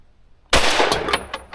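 A heavy rifle fires a fast full-auto burst at an outdoor shooting range, a sudden loud blast followed by several rapid, close cracks with ringing echo.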